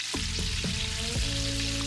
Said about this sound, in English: That sizzle is moisture leaving, building a barrier against the oil.